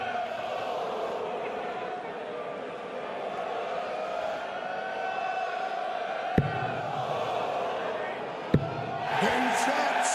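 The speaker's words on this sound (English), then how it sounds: "The crowd getting vocal." A darts crowd at a professional match, where a dense, rising murmur of spectators swells into louder cheering near the end, broken by two sharp thuds.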